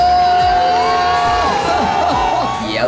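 Crowd at a futsal final in a bank league cup, loud and continuous cheering and shouting with whoops and whistles rising over the noise.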